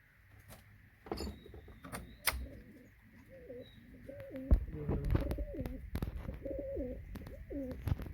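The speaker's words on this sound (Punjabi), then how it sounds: "ਇਹ ਬੱਚਾ ਤਾਂ ਗੁੱਟਕਦਾ ਰਹਿੰਦਾ ਜਦੋਂ ਦੇਖੋ ਇਹਨੂੰ" Repeated soft, warbling coos from a pigeon chick, steady and close, with a few sharp knocks and rustles of handling around them.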